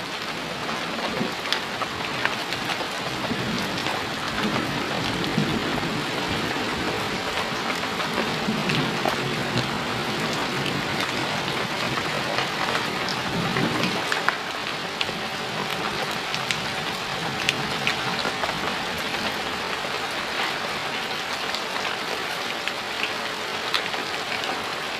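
Heavy rain pours down steadily in Sukabumi, a dense, continuous hiss of drops on surfaces that stays loud and unbroken throughout, with no voices.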